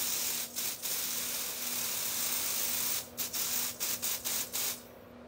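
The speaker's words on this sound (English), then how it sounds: "I think we're getting low on smoke because it's taking more smoke spray than average to activate." Canned smoke spray aimed at a smoke detector gives a long, close, steady hiss, then a quick run of short sharp bursts before stopping, over a low electrical hum.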